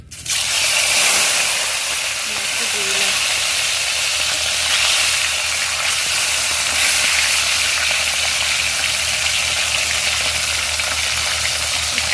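Fish frying in hot oil in a pan, a loud, dense, continuous sizzle close by that stays even throughout with no talking.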